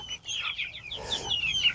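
Backyard chickens, hens with a couple of possible roosters mixed in, cluck and chatter nearby in a short, lively burst of overlapping calls.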